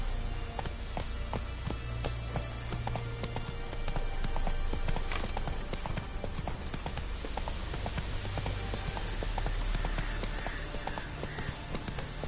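The horse Roach gallops in The Witcher 3 game, with quick, rhythmic hoof clip-clops pounding steadily and close throughout, amid a busy layer of battle ambience.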